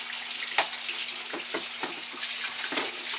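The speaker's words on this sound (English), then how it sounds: "I'm gonna rinse this out. I'm just washing this with some dish soap." Water from a kitchen tap runs steadily as a container is rinsed while dish soap is washed off. The hiss is close and continuous, with soft splashes and a faint steady hum beneath, and no talking.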